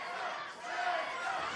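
A sold-out wrestling crowd in an arena chanting for the world champion, a dense roar of voices swelling slightly, heard from a distance behind a commentator talking.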